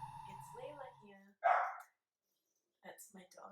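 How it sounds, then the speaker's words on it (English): A dog gives one sharp, close bark between stretches of someone speaking. "That's my dog."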